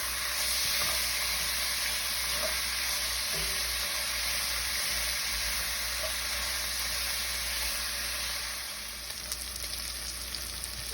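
Cured meat fries in a pan for pilau, fat rendering out in a steady, dense sizzling hiss that holds unbroken and close, easing slightly near the end.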